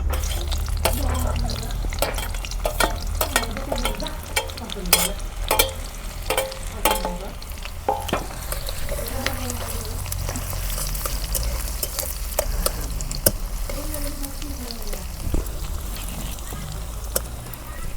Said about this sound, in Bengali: তেল গরম হয়েছে, এখন আমি পেঁয়াজ কুচি দিয়ে দিই।